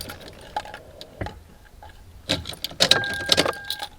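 Ignition key turned in a 1JZ-engined Toyota Crown, with jingling keys and sharp clicks and ticks that grow busier toward the end, close by, followed by a faint steady electronic chime, no talking.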